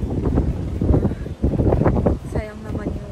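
Heavy wind buffeting the microphone in rough gusts at Bahrain Bay, with a voice faintly underneath.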